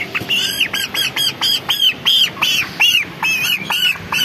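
A chicken, a 28-day-old bird weighing about 1430 grams, squawks over and over in loud, close, rapid bursts, each cry sharp and rising, with no other sound around it.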